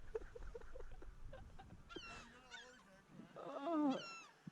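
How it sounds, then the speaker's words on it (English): A seagull gives a run of raspy, squawking calls close by outdoors, loudest toward the end, with a few scattered faint knocks before it. "Here we have a bird."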